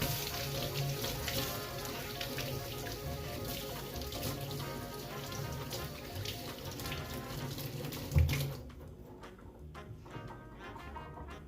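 Tap water runs steadily into a sink while fingers covered in flour from feeding a sourdough starter are rinsed, a close continuous splash that stops abruptly near the end, leaving soft drips.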